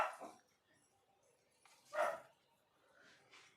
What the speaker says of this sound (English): Let me get my dog to shut up.